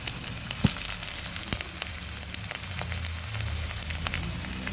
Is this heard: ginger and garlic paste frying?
yes